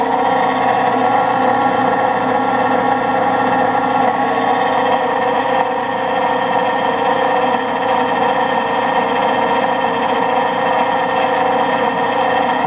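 Allis-Chalmers motor driving a rotary phase converter runs continuously with rough, worn-sounding bearings, a steady close hum layered with a gritty rattling whir and no pauses.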